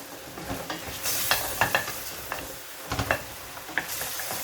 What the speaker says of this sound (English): Let's go ahead and give this another stir.